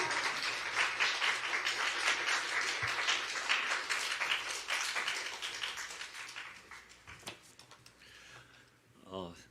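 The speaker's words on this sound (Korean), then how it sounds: "크게 박수로 한번 환영하도록 하겠습니다" A church congregation claps enthusiastically in a dense, steady burst that gradually thins out, with a voice speaking faintly near the end.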